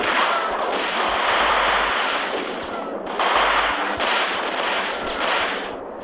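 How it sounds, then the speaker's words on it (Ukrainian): Loud, close bursts of rapid gunfire in the video game Max Payne, rattling almost continuously, broken by a couple of short pauses. "Макс, треба в них стріляти, не дивитися на них, поки вони тебе вб'ють."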